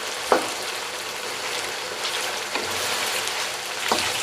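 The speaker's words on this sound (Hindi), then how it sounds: "सिर्फ इसको पहले फ्राई करना है ऑयल में।" Chicken pieces fry in oil in a karahi, giving a soft, continuous sizzle with a few faint clicks of stirring, heard alone at a modest level.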